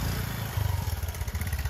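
A Royal Enfield Bullet motorcycle engine thumps off-road in a quick, uneven low pulse, close and fairly loud, with some rattle from rough ground; no voices.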